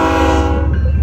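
Canadian Pacific locomotives lead a train along BNSF tracks in Denair, California, giving off a loud, steady engine rumble with a sustained tonal horn-like drone close by, fading slightly toward the end.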